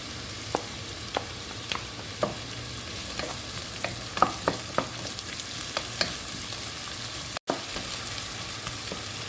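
Finely chopped onion fries in a pan for restaurant-style chilli chicken, a continuous close sizzle punctuated by regular scraping stirs, with one brief dropout partway through.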